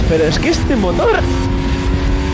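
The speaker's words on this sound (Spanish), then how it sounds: "Me encanta la salida de curva con esta moto, chaval." A motorcycle engine drones steadily as the bike pulls out of a curve on a Basque coastal road, a sustained hum sitting under someone speaking Spanish close to the microphone.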